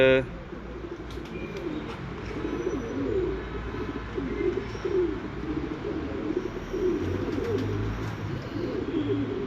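Breeder pigeons coo steadily in soft, low, repeated throbbing calls from a close loft, with faint voices murmuring underneath.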